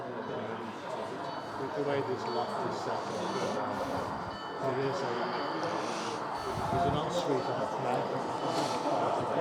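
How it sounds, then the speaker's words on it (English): Small model railway locomotive running on a compact layout at a rail open day, a steady mechanical hum and rumble under a noisy indoor crowd, with voices throughout. "So the loco's about to come out again."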